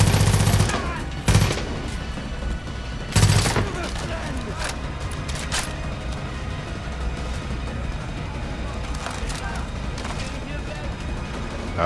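Gunfire and shotgun blasts in the video game Far Cry 5: a few loud booming shots early on, then a steady rattle of distant gunfire under background game sounds.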